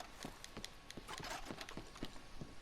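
Rhythmic clip-clop of a horse's hooves in Red Dead Redemption 2, a steady close trot of soft, evenly spaced thuds at low volume.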